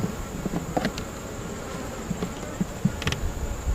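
Honeybees buzzing in a bee yard crowded with hives, a steady soft hum of many insects around the listener, with a few brief louder passes and no talk.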